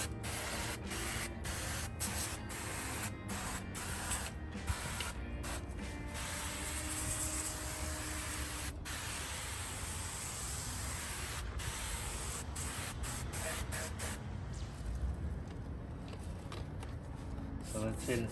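Car wheels and tires being rinsed with a pressurised water spray at a car wash, a loud continuous hiss broken by short pauses as the spray is stopped and restarted.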